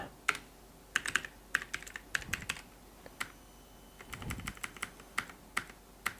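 Fingers tap a computer keyboard while writing HTML code, making irregular clusters of crisp, close clicks with brief pauses between bursts over a low, steady background.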